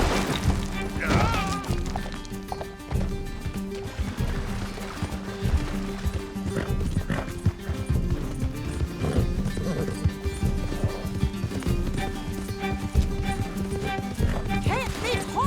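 Horses gallop in Red Dead Redemption 2, a steady clip-clop of hooves with an occasional whinny, running loud and continuous beneath a game soundtrack and voices.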